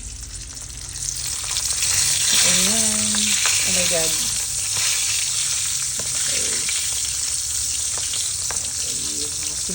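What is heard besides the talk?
dried fish (tuyo) frying in a pan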